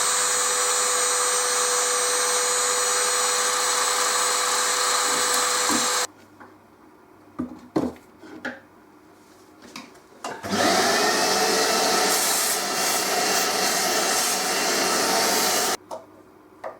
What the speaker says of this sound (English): I'm just going to run that through my sander now to take it down to my desired